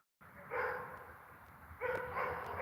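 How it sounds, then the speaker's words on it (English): Several dogs bark and yip outdoors at a moderate distance in a quiet natural setting, the barking rising in two clusters over a steady background hiss. "Now all the dogs are stirred up. We get to hear that. The lovely sound of the barking"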